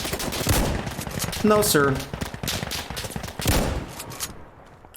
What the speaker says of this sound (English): No hostile here, just a big 6-gauge slug right to your chest